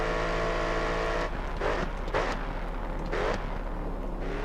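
Race car engine in GRID Autosport running at speed in sixth gear, a loud steady droning tone that breaks into several surging revving bursts, continuous and close with no talking.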